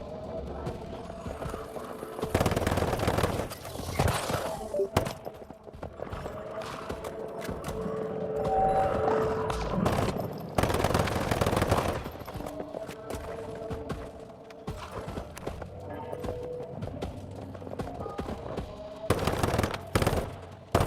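Gunfire in the video game Once Human comes in repeated bursts of rapid shots, loud and close, separated by quieter gaps with some background game sound.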